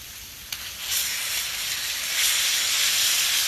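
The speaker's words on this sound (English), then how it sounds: "And then steam these guys a little bit too" Fajitas sizzle and steam on an outdoor flat top griddle with a little oil, a steady hissing fry that swells louder after a brief sharp tick, close and continuous with no talk.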